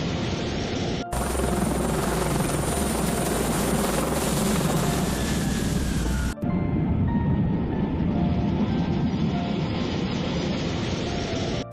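A red rescue helicopter flies through a storm over the Amazon rainforest, its rotor and engine making a continuous loud, close drone. The sound is interrupted by a couple of abrupt cuts.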